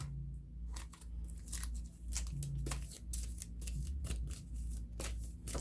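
Tarot cards being shuffled in a loose, continuous riffle of papery flicks and snaps, fairly close and steady, with a low hum underneath and no talking.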